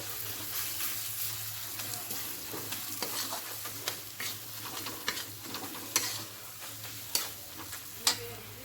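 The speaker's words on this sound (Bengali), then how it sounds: "হলুদের সঙ্গে ভালো করে মশলাটাকে মিক্সড করে নেব" Spice paste with turmeric being stirred in a frying pan, a steady soft sizzle with a spoon scraping and occasional sharp taps on the pan rim, close and moderately quiet.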